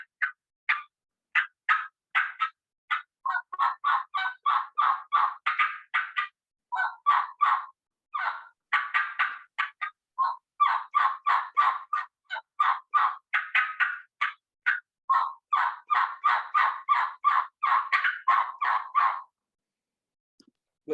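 Hunting turkey call mimicking a wild turkey: long runs of rapid, sharp clucks and yelps in quick rhythmic bursts, fairly close and clear, continuing for most of the span before stopping.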